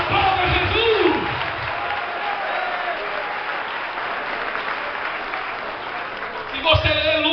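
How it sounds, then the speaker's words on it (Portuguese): A church congregation at a Sunday service breaks into sustained applause, a dense wash of clapping mixed with crowd voices and shouts that holds steady throughout, with a voice rising at the start and again near the end. "Aplauda Jesus."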